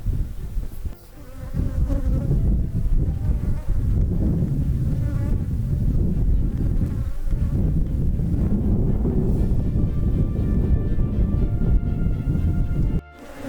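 Honeybees swarming around an open beehive on a farm, making a loud, dense, continuous buzzing drone close to the microphone, with a little wind rumble underneath.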